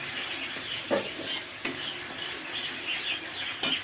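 A masala for paneer curry sizzles in a pan while a spoon stirs and scrapes it, with a few sharper knocks against the pan over a continuous frying hiss.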